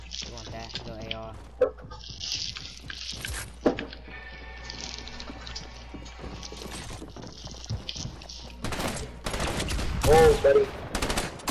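Assault rifle gunfire in the Fortnite video game: a few sharp, scattered shots and bursts crack among game sounds while players talk.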